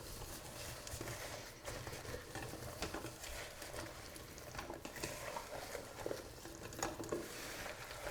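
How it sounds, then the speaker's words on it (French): Shrimp and sausage marinade being mixed with tomato paste in a bowl, making a soft, continuous wet squelching and scraping that stays quiet and close for several seconds. "Je vais rajouter le concentré de tomate et on va mélanger tout ça"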